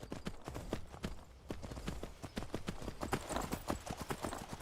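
Horse hooves clip-clop in a steady, brisk trotting rhythm in Skyrim, a continuous run of close, crisp hoof strikes with faint voices underneath.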